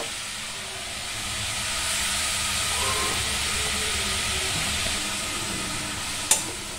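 Spiced grated carrots stirred in a pan, a soft continuous sizzle with faint scraping, ending in a sharp clack near the close.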